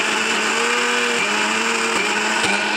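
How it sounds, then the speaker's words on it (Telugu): A kitchen mixer grinder blending soaked moong dal with ginger and green chillies into pesarattu batter, a loud, steady motor whine with slight pitch shifts and a couple of brief bumps, heard close with no talking. "సో దీన్ని మిక్సీ పట్టదాం."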